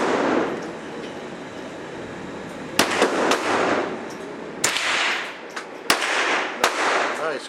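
Sharp gunshots from a Ruger rifle fitted with a BX drop-in trigger crack out at a shooting range, about five or six spaced shots over a steady background rumble.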